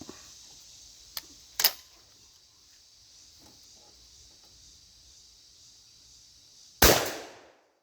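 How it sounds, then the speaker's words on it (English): A firearm is fired at a target in a sharp, loud single report near the end, preceded by a couple of fainter clicks and a small pop over a steady background hum. "And I put the bead right on top of the target because I've been shooting low with this one."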